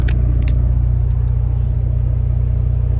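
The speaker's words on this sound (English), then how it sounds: "Truck over there." A truck engine idles in a deep, steady rumble at a drop-and-hook stop, loud and close and unbroken, with a few faint metallic jingles over the top.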